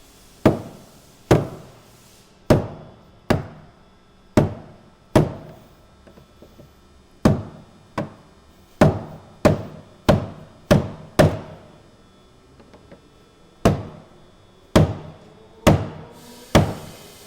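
Sharp metallic strikes hammer a fuel tank lock ring clockwise on a 2017 Ford Powerstroke 6.7L crew cab truck's S&B 60-gallon replacement tank, about sixteen loud, close blows in irregular bursts with brief pauses, no talking.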